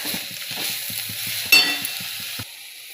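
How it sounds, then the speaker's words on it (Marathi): Kurdu wild greens sautéing in a pan, with a steady sizzle beneath rhythmic stirring taps and scrapes at close range, plus a brief sharper clink midway, and no voices. "भाजी व्यवस्थित परतून घ्यायची आहे."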